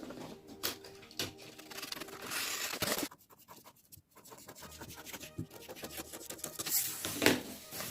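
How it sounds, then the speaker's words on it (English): Scissors cutting through a paper sewing pattern in close, quiet snips and rustles, with crisp paper crackles and an uneven rhythm of short cuts. "I will cut my pattern."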